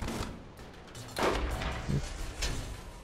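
Shotgun blasts in the Borderlands shooter game, a few booming shots in quick succession, close and loud over a rumbling game background.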